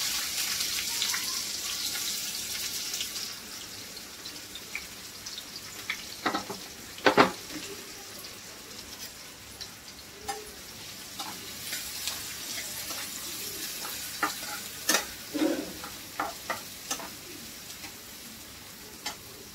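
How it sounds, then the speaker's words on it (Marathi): Finely chopped onion sizzles steadily in a hot pan, with a continuous frying hiss broken by intermittent scraping clicks and knocks as it is stirred; close and moderately loud, no talking. "आता आपण कांदा टाकूया, बारीक कापून घेतला."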